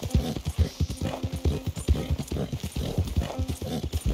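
Horse hooves clip-clop in a steady, repeated rhythm in Red Dead Redemption 2, close and fairly loud, with an occasional faint whinny and low rumbling underneath.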